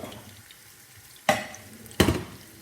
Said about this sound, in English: And I fry the meat this way.